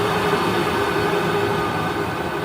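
Continuous broadband whooshing of a Worcester 38 CDI boiler fan running steadily as it is turned down from maximum, close and fairly loud, with no talking over it.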